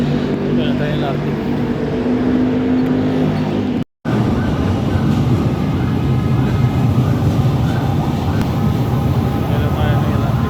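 A light rail train hums and rumbles loudly, a brief cut in the middle, then rushing track noise continues with people talking underneath.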